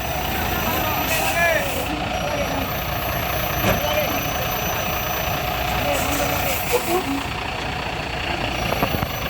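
A truck engine runs steadily as it helps a Pertamina tanker truck that is slipping on a steep, jammed uphill road, with a continuous loud drone, intermittent beeps and people talking nearby.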